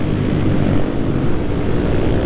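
A supermoto motorcycle with a racing exhaust rides along on a long touring trip in a group, its loud, steady engine drone running continuously up close with no talk.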